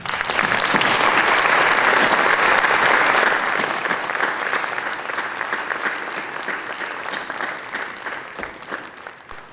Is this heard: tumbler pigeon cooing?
no